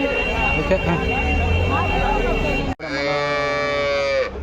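A cow gives a long, loud moo close by after a stretch of background chatter and cattle market noise at Palamaner, its drawn-out call lasting over a second.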